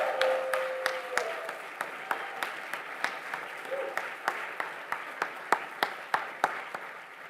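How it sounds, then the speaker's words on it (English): An audience at a women's pitch competition applauds the six presenters, sustained clapping with distinct louder individual claps punctuating a steady rhythm, and a brief voice near the start. "can we get a round of applause for all 6 of our presenters?"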